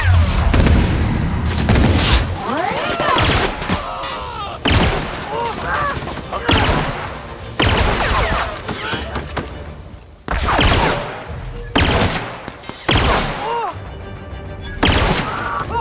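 Gunfire in the video game The Outer Worlds: a loud, chaotic firefight of repeated shots and booming blasts that comes in bursts, with voices shouting over it.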